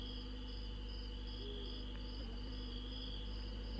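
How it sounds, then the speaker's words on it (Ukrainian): Insect-like buzzing from a mosquito in the video game Contraband Police, a thin steady whine running the whole time over a constant low hum of game ambience, with no speech. "Комар курва літає"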